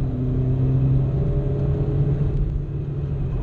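Inside a Peugeot 106 Rallye on the move, the engine gives a steady low rumble with a faint tonal drone that shifts slightly in pitch, continuous and moderately loud with no talking over it.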